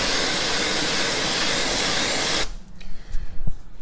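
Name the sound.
freeze spray sprayed on window glass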